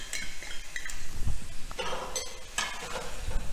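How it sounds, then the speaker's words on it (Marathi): Cucumber sautéing in a pan, with a soft sizzle under scraping stirs and a few light clinks of a utensil against the metal in short bursts. "काकडी पण थोडीशी परतायची"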